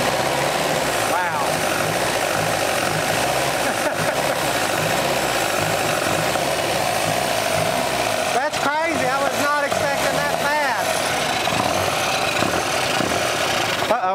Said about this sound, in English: I've never seen one crank up that quick